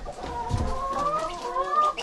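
Chickens on a small farm cluck and murmur close by in soft, repeated warbling calls during morning chores, with no talk over them.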